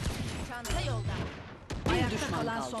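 Sheriff pistol shots in a competitive Valorant tournament match, several sharp cracks spaced apart, heard under excited commentary.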